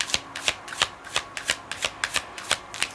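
Tarot cards being shuffled and drawn from a deck, a steady run of crisp riffling snaps and flutters repeating about every third of a second, close and clear with no talking.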